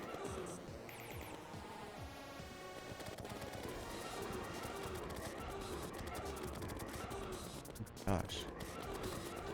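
Rapid in-game gunfire from Terraria shooting at an enemy, a dense continuous rattle of shots over busy game music and effects, with a louder burst near the end.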